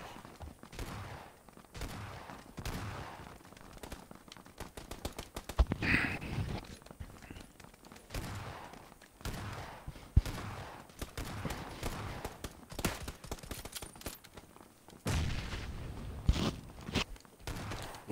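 AKM rifle gunfire in the video game PUBG: scattered sharp shots and bursts among footstep-like thuds, moderately loud and spread across the moment, no clear talk.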